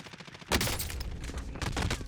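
Gunfire in the video game Warzone comes as two sharp bursts of shots, each trailing into a rattling decay, close and loud over a quieter game background.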